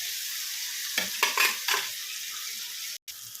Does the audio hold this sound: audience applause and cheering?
no